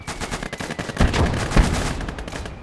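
Bombardment and gunfire in the WWII strategy game Gates of Hell, with dense crackling shots and two heavier booming impacts in quick succession, loud and continuous with no talk.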